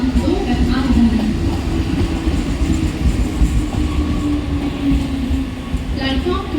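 A Mumbai Central line slow local train at a station platform, rolling with a loud, steady rumble and clatter of wheels and carriages close by, while a platform announcement plays over it.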